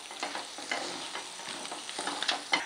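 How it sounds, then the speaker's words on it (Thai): Chopped garlic and ginger stir-fried in a pan, a soft steady sizzle with light scraping strokes and a few small clinks of the utensil, fairly quiet and close, with no talking. "ผัดกระเทียมให้หอมเลย แล้วก็ใส่ขิงสับลงไปเลยค่ะ"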